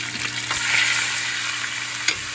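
Turmeric, dried chili powder and Kashmiri chili powder mixed in water hit fried fish in a hot pan for a tangy, spicy fish curry, raising a steady, loud sizzle with faint clinks of stirring and no talking.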